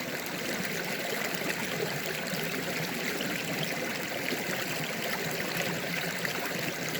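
Mountain creek water flowing steadily in a continuous close rush and trickle, with no voices.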